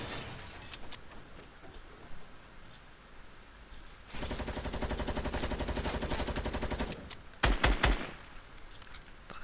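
Rapid pistol fire from dual-wielded handguns in Fortnite, a fast sustained string of shots for a few seconds followed by a couple of louder separate bursts, with quieter game ambience around them.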